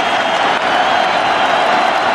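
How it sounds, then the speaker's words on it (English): A packed basketball arena crowd roars and cheers continuously during an NBA playoff game between the Minnesota Timberwolves and Sacramento Kings, a loud, dense wall of sustained crowd noise with no clear breaks. "Listen to this crowd."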